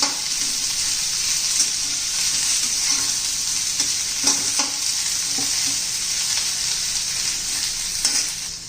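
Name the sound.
onion sautéing in pan until browned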